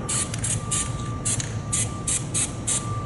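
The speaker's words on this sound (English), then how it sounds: "we're gonna grease all the moving parts and the cylinder." Grease gun pumping grease into the angle cylinder bolt of a Sno-Way snow plow, a series of short, sharp hissing squirts in an irregular rhythm, close and alone.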